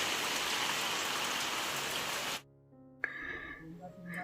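Steady, dense monsoon rain pours down for a couple of seconds under dark skies, then cuts off abruptly, giving way to a quieter room with a brief thump and faint sounds.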